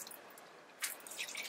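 Rainwater poured off a plant saucer beneath a pot, faint soft splashes and drips in a quiet outdoor setting, with a brief louder spill partway through followed by scattered trickles.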